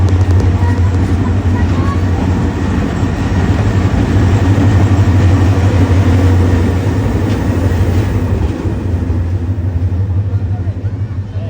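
A train pulls in at a station in Bangladesh with a loud, continuous low rumble and broadband rolling noise that eases slightly near the end, while voices murmur in the background.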